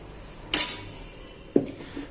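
A spoon mixing dhokla batter with salt and turmeric in a bowl: two distinct clinks against the bowl, the first bright and sharp, the second duller, with quiet between.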